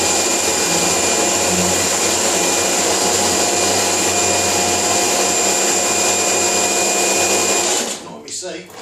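A pressure washer rinses degreaser off a car in a garage, its loud, steady hissing spray droning close by for several seconds before cutting off abruptly near the end.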